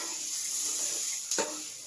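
Eggplant sisig being stirred in a hot pan, a steady close sizzle of frying with a brief scraping clatter of the utensil against the pan near the end.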